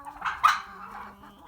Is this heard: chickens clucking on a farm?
yes